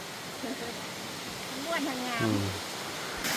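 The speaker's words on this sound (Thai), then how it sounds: "อันนี้จะเป็นน้ำตกตาดที่ว่าสร้างขึ้นเนาะ" Water from a man-made waterfall at Hoi Khua Waterfall, Green Jungle Park, rushes steadily in the background while voices talk briefly over it, the falling water soft and constant.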